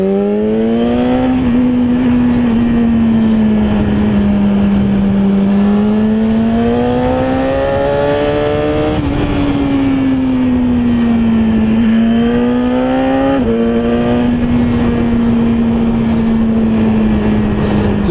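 A BMW S1000RR motorcycle engine drones loudly and steadily at speed, its pitch rising and falling gently with throttle changes and shifts, close up with constant wind roar.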